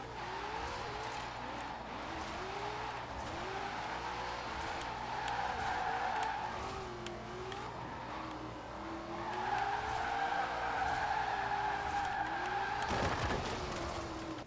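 A Formula Drift car slides through turns in Forza Horizon 4, its tires squealing in long wavering skids over a steady engine drone, loud and continuous with a brief burst near the end.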